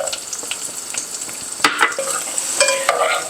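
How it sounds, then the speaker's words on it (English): Chopped celery sizzles in melted butter in a medium saucepan, steady frying hiss under repeated stirring scrapes and a few louder utensil knocks, no talking. "We're just going to stir our celery until it is cooked through"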